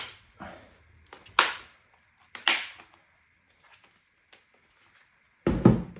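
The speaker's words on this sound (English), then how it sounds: "just start going around, pushing in. You'll hear things start to clip in all the way around." Plastic clips on an Acer TravelMate P238-M laptop bottom case snapping into place as it is pressed around the edges, several sharp, separate clicks spread over a few seconds in a quiet room, close and alone.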